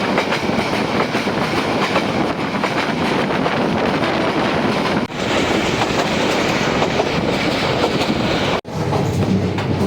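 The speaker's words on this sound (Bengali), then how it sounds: "হরহর হরহর খালি একটা শব্দ হইতেছে, মিটার গ্যাস ট্রেনের আসল সাউন্ড" A metre-gauge passenger express rolls along the rails, its loud continuous rumble and rhythmic wheel clatter filling the carriage, with two short dips in the noise.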